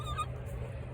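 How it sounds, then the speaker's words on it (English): A chicken gives a brief, close squawking cluck at the start, then only a low steady hum remains in a workshop where a 1968 C10 pickup is being repaired. "What are you doing, chicken?"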